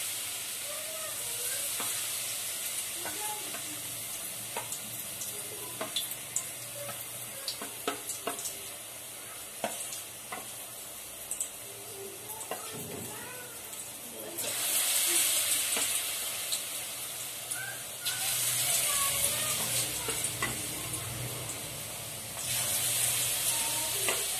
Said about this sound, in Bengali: এই যে আলুটাকে ব্যাটারে দিয়ে দিয়েছি, এবারে খাবার তেলে দিয়ে দিচ্ছি।